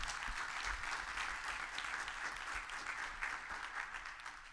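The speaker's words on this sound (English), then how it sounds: "I just want to give a round of applause one more time for our presenters." An audience at an Alpha Phi Alpha domestic violence awareness event claps for the presenters, a steady round of applause sustained throughout at moderate distance with no talking.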